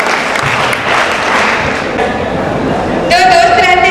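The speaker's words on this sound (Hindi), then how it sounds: "तो आप लोग जोरदार तालियों से स्वागत कीजिए" An audience at an education conclave on stage applauds loudly and steadily to welcome a performer, and a voice comes in over the applause near the end.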